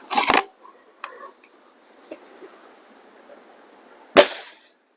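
RWS Diana Model 34 air rifle firing, a sharp close crack at the start followed by faint mechanical rattles and handling clicks, then a second loud snapping shot near the end.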